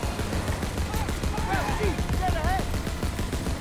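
A vehicle-mounted gun fires in the Call of Duty: WWII video game, with rapid, evenly spaced shots in a continuous stream, while a voice shouts over the shooting.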